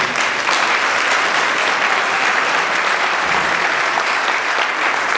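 Sustained audience applause fills a debate hall at Oakridge Church, a steady dense clapping from the crowd that holds at an even loudness throughout without a break.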